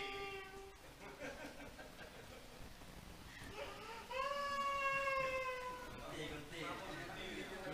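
A possessed person imitates a cat's meow during a training session, drawn-out wavering cries rising and falling, the loudest stretch in the middle, over a crowded, noisy room with voices around.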